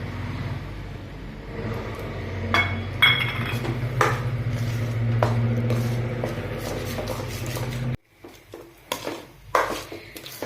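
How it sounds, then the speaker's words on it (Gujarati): Fig halwa with milk powder being stirred in a pan: a steady run of metal clinks and scraping knocks over a low background hum, cutting to near quiet at the end with a few scattered taps. "પછી એને થોડીક વાર હલાવીએ"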